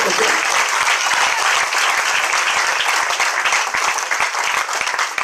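A church congregation bursts into loud, sustained applause for several seconds, dense clapping filling the hall with a few voices mixed in.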